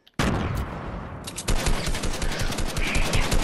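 Rapid burst-rifle gunfire from a video game, loud and close, starting abruptly and continuing in dense repeated bursts with a sharper, heavier stretch in the second half.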